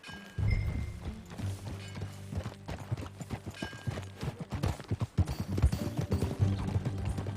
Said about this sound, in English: Follow me. Let's ride.